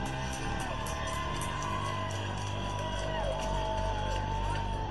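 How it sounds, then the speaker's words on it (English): Crowd outside the burning Minneapolis third police precinct in 2020, with distant whoops, yells and cheering over a steady roar of background noise, sustained throughout. "I just wanted you to hear the sound of people cheering as the third precinct appears to be on fire at this time"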